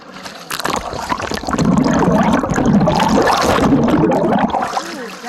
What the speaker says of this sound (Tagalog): Lumakas ang alon.